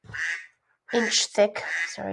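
A phone ringtone that mimics a duck's quack interrupts someone talking while making bisque-fired texture rollers for pottery. A few nasal quacks come at close range, mixed with his speech.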